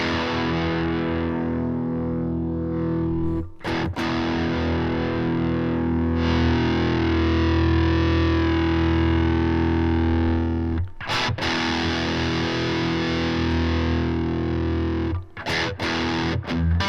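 Distorted electric guitar through a Fender Tone Master Pro with distortion pedal sounds, thick, sustained chords ringing loud and continuous, cut by a few brief pauses.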